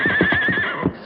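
A horse neighs in a radio drama, a loud, close, shrill whinny lasting about a second, with a quavering pitch and a few stamping hoof sounds underneath.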